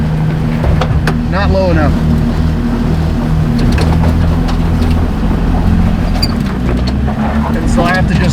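An off-road vehicle throttles hard over rocks on a rough mountain trail, its engine giving a loud, steady low drone close by, while people talk over it.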